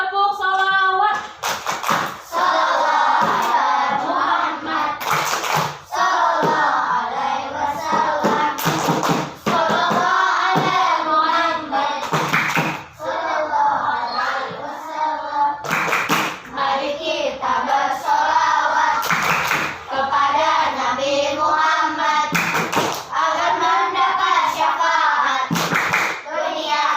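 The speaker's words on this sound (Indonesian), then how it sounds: "Tepuk salawat." A classroom of children performs a rhythmic clapping chant, sharp hand claps landing in steady patterns between bursts of sung group voices, loud and close throughout.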